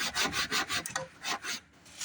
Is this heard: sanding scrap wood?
yes